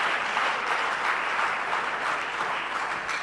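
A crowd at an education policy event bursts into steady, dense applause that holds loud and unbroken for several seconds.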